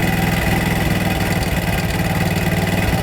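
A motorcycle engine idles steadily up close while its air/fuel mixture screw is being adjusted, a continuous even drone with a slight dip in revs partway through and no talking.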